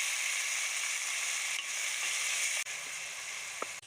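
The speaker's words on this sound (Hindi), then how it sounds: "अच्छी तरह से भूनेंगे टमाटर को भी।" Tomatoes and green chillies sizzle steadily in a pan with browned onions, a close, even frying hiss with a couple of brief stirring knocks near the end.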